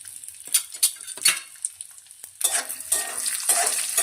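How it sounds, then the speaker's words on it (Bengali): Black peppercorns sizzle as they are tempered in hot oil for a poha pulao, with quick scraping stirs and metallic clinks over a loud, steady frying hiss that swells halfway through. "এবার গোলমরিচ ফোড়ন দিয়ে দেবো।"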